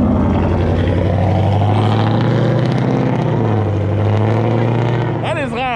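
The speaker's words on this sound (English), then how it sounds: "I cannot speak before that car left" A loud car rolls past at a car show meet, its deep engine rumble and exhaust droning steadily and then fading as it drives away, with voices underneath.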